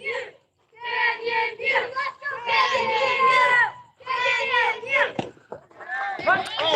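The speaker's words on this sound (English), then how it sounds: "Very animated Canyon View dugout cheering on their teammate" A Canyon View youth minors baseball dugout at an Arizona state tournament chants and yells in bursts of high young voices, close and lively, with short pauses between rounds of cheering.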